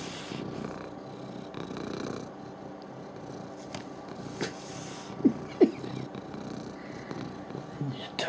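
A house cat purrs softly and steadily nearby, a low continuous rumble with a few small snorts and clicks, and a person speaks faintly over it.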